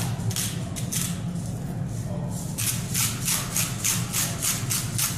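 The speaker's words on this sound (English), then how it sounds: "I'm going to take some of that thyme that was left over, kind of rub it in there with that salt." Hands rub salt and thyme into a prime rib roast with quick, repeated strokes, making a rhythmic, scratchy brushing that speeds into a regular pattern in the second half.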